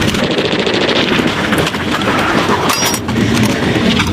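Rapid sustained machine gun fire from a gunner on the outskirts during a US Marine Corps urban combat exercise, loud continuous bursts of rattling shots with slight breaks, no voices.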